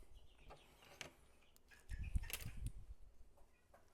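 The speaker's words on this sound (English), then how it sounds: "I got some vocal chickens tonight." Chickens cluck and chirp sporadically, fairly faint, with a busier burst of clucking in the middle against a quiet background.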